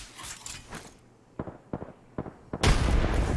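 Frag grenade going off in Apex Legends, a burst of gunfire-like noise, then a few sharp separate cracks and a loud broadband blast near the end, all close with no voices.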